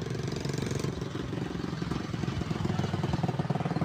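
Kolong-kolong motorcycle with sidecar running in a flooded street, a steady loud rumbling engine drone close by with continuous rough throbbing throughout.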